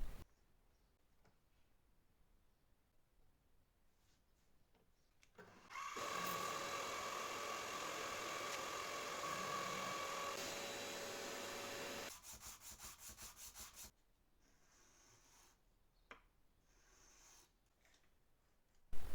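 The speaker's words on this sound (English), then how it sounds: "It also creates less dust because I use the vacuum to kind of collect all the really fine stuff that comes off of it" A milling machine cuts the steel of a vintage Japanese vest-bowie knife while a vacuum pulls away fine dust, a steady loud whirring grind that runs for several seconds and then stops, with no talking.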